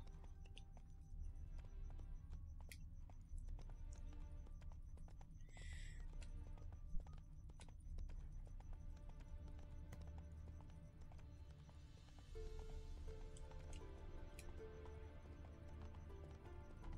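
Hooves of Roach, a horse in The Witcher 3, clip-clop steadily at walking pace through a low ambient bed, with faint buzzing of bees and the occasional snort.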